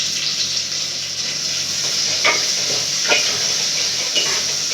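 Chopped tomatoes sizzle in a pan with softened onion and chili paste, a steady close hiss of frying broken by three brief scraping stirs, with no talking.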